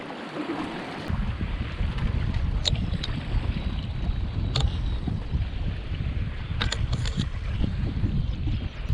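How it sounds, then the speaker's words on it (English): Strong wind gusts across an open lakeside camp during a solo canoe trip, a loud, constant roaring rush with buffeting on the microphone and a few brief knocks, with no voices. "you can see the wind's already getting worse"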